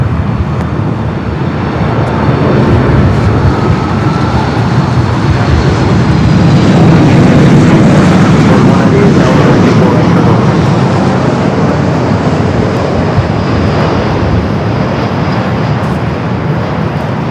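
A jet airliner roars down LAX runway 24 left on its takeoff roll, a loud, steady, broadband engine rumble that holds for the whole stretch, close and continuous, with no voices over it.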